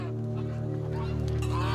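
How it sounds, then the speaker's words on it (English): Geese honking at a Mari pagan sacred grove where birds are brought for sacrifice, a dense nasal chorus of overlapping honks, loud and close, continuous throughout. "the grove resonates with goose honks"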